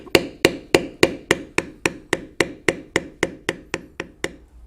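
A leather stamping beveler struck with a mallet while tooling a standing buffalo design in leather, about fifteen sharp, evenly spaced taps in a steady rhythm, each a crisp knock with a short decay, close and clear with no talk.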